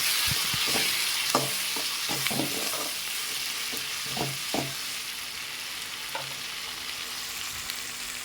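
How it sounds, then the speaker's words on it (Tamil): Tomatoes sauté in a pan with turmeric for an oyster mushroom gravy, giving a steady close sizzle broken by repeated scraping knocks of a spoon stirring through the first half. "தக்காளி நல்லா தோல் மைய வதங்கணும்."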